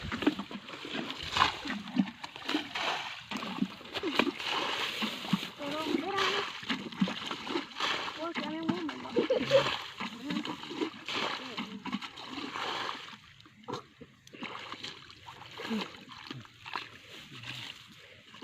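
Feet trample through a waterlogged field while insects are being caught, giving repeated close splashes and sloshing under near-constant talk from several people.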